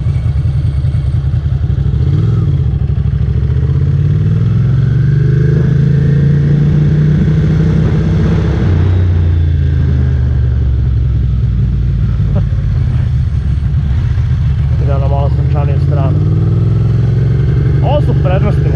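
A motorcycle engine drones steadily while riding, with its pitch rising and falling through revs across the whole stretch, and voices talking over it.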